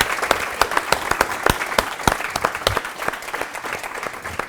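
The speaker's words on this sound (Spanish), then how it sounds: "El aplauso para todos." An audience at a cooking show event gives a round of applause, dense and sustained clapping filling the room with no talk over it.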